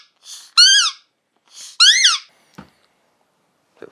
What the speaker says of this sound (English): you can actually use a squeaky toy on its own